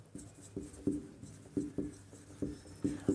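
Chalk or marker writing on a board during a Class 10 science lesson, heard as a series of short rhythmic scratchy strokes, close and fairly soft, with no talking.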